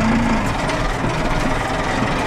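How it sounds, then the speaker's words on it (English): An old, underpowered tractor labours to pull a heavily loaded muck spreader, its engine a loud, steady close-up drone with a constant low rumble and no voices. "This poor old tractor is a bit underpowered for this thing."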